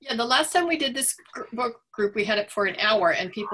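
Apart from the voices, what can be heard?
None of the usual background noises is heard.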